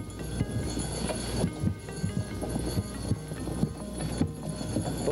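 A team of horses walks while pulling a wagon, their hooves clip-clopping in a steady, uneven rhythm close by. A low rumble of the wagon runs underneath.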